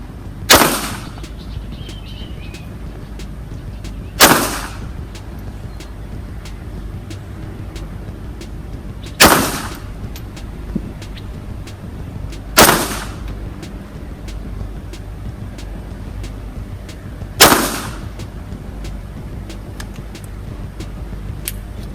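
Five single gunshots from a Colt Woodsman pistol fired at a target about ten meters away, sharp loud cracks spaced roughly four seconds apart over a quiet background.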